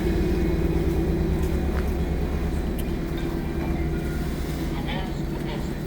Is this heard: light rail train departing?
yes